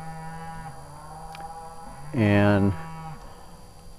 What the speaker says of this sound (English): ignore the cows in the background